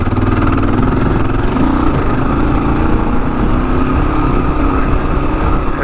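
A big, heavy Kawasaki KLR motorcycle rides through soft desert sand, its mid-pitched engine droning loud and steady throughout, with no talk over it.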